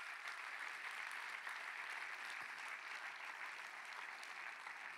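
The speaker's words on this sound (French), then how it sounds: "il faut applaudir notre directrice de la programmation, Madame Edna Eppelbaum" Faint, steady applause from an audience at the FFFH2025 opening ceremony runs evenly and unbroken throughout, with no voices over it.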